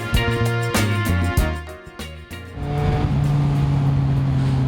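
A Yamaha MT-09 SP motorcycle is ridden, its loud engine blipping through stepped revs and gear changes before settling into a steady, close drone under acceleration.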